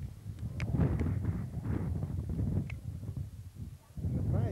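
Gusty wind at a campsite rumbles against the microphone in uneven waves, with faint scattered clicks and a bird-like chirp in the background.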